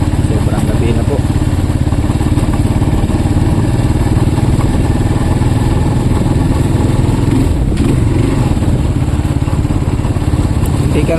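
Motorcycle engine running steadily at night, a loud continuous mid-pitched drone that fills the whole stretch, close to the listener and with no break.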